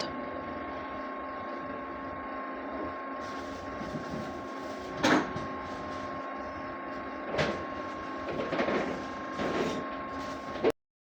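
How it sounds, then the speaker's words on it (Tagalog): An inkjet printer runs a nozzle test after a head clean and wiper wipe, giving a steady mechanical hum with a few short sliding, ratcheting carriage sounds. The sounds come close by and fairly loud, and no one talks. "Nozzle test."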